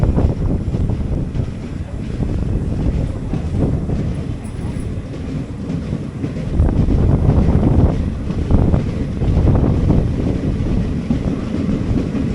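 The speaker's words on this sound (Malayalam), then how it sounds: "കുരവപ്പുളം സ്റ്റേഷനിൽ പുറപ്പെട്ടു." A DEMU diesel multiple-unit train pulls out of a station and rolls along the rails, giving a continuous loud, low rumble with wind buffeting and rising, rhythmic track noise.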